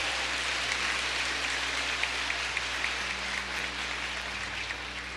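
A church congregation applauding during a Catholic priest's sermon, a continuous wash of many hands clapping at an even level throughout, with a faint low hum beneath.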